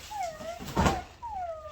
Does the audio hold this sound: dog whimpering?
yes